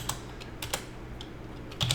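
Quick keystrokes on a computer keyboard, a handful of light clicks in an uneven burst, close and fairly quiet, with no voices.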